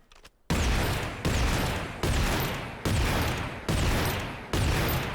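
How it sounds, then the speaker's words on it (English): Repeated gunfire bursts in Call of Duty MW3 Warzone using the Gundam Zaku II tracer pack weapon: six loud, sustained volleys, each cut off by a short pause, close and with no talk. "That's such a cool sound effect. It's like a classic gun sound effect,"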